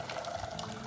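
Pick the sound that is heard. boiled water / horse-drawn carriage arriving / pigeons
boiled water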